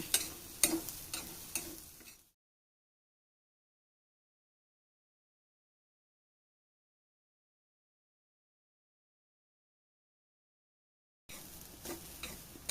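Grated coconut is roasted in a pan over a medium flame for a Kerala onion theeyal. Soft stirring scrapes and a gentle sizzle come briefly at the start and again at the end, with a long silence in between.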